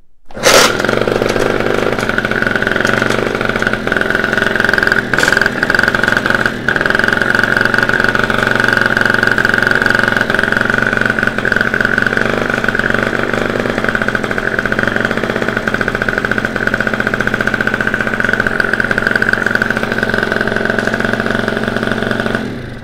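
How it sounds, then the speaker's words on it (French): Repaired scooter engine catching at once and settling into a steady, buzzing idle that runs close and loud without a break, with a brief sharp transient at the start and no talk. "le scooter démarre au quart de tour"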